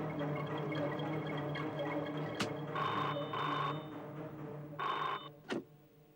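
A telephone rings indoors in a Hindi TV drama scene, two short bursts of electronic ringing over a steady low hum, with a sharp click near the end as the receiver is picked up.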